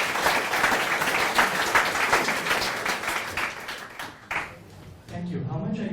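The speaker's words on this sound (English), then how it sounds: "Round of applause." Warm, sustained clapping from an audience after a startup pitch to investors in London, dense at first and then thinning out before a quieter stretch at the end.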